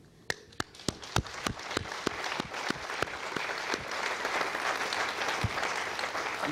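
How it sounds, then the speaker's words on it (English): Applause from an audience at a Vega rocket launch event starts with a few sharp, separate claps near the microphone and swells into dense, steady clapping from the whole crowd. "il faut applaudir pour Frascati"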